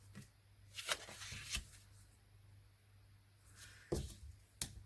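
Scored card stock is creased and folded for an explosion box, giving a few crisp, rustling crackles and flaps up close that rise and fade over a few seconds.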